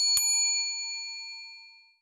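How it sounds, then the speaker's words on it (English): A bell signals the end of a shift in a tabletop gaming space: one clear, bright metallic ding, close and loud, with a long ringing tone that slowly fades to silence over about two seconds. "Well, that was the double bell."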